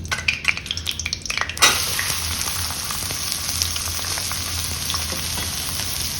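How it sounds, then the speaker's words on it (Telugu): Onions dropped into 5-6 spoons of hot oil, with a few clinking utensil sounds first, then a sudden loud hiss that settles into a steady, close sizzle, no voices. "ఇప్పుడు ఇందులో ఉల్లిపాయలు వేస్తున్నాను"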